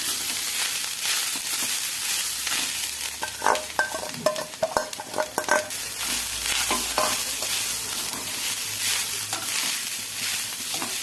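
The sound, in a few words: grated coconut being sautéed and stirred in a pan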